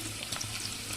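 Onion frying in oil with garlic and green chilli for a chickpea and ivy gourd stir-fry, a steady broadband sizzle filling the short stretch with no voices.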